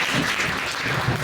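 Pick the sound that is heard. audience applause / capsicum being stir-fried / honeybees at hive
audience applause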